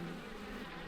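Bees buzz in a steady, dense drone that holds without pause, close and continuous.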